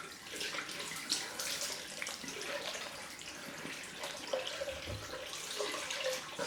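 A tap runs steadily with a hissing, splashing stream of water, close by, with no talk.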